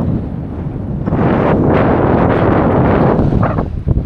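Gusty sea wind on Hiiumaa island, Estonia, roars against the microphone, swelling into loud rushing blasts with a deep rumble underneath.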